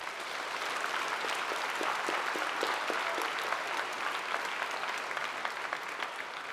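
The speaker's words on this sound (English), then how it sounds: "Can we give them one more round of applause?" A convocation audience in Regina applauds for a Saskatchewan Polytechnic graduating class, a dense, steady roar of many hands clapping that holds at an even level throughout.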